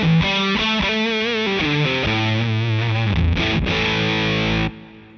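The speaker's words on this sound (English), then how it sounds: "So that's the sound of the Big Muff." Electric guitar through an Electro Harmonix Big Muff fuzz pedal, a thick, saturated fuzz line of moving notes ending in a sustained chord that cuts off, loud and close with no talk.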